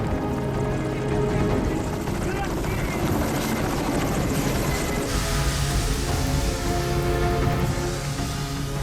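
Steady helicopter rotor drone running throughout, loud and continuous with a broad rumbling wash, from a firefighting helicopter at a forest fire near the DMZ in Korea.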